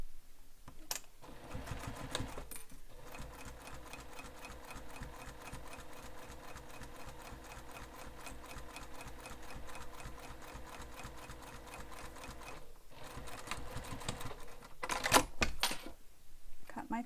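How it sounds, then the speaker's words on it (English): A domestic sewing machine topstitches beach-bag fabric beneath a zipper, running in a fast, steady mechanical rattle for most of the stretch with brief pauses near the start and end. "Now I'm going to top stitch this under the zipper."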